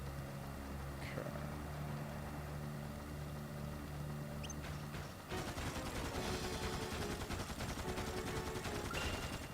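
Rapid bursts of gunfire from the Dark Cloud 2 video game, recorded quietly, with a dense clatter of shots continuing throughout and growing louder in the second half.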